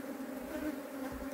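A honeybee swarm hums in a dense, continuous drone as the bees are dumped into a hive box in a shed, close and steady throughout.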